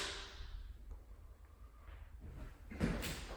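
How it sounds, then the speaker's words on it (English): A mirrored double closet door in a rental apartment slides along its track with a soft rolling sound, then comes to rest with a brief bump near the end against quiet room tone. "Mirrored double closet door."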